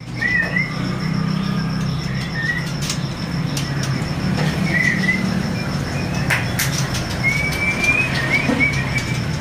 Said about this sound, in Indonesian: Tuh ini ada burung murai Medan trotol jantan ya.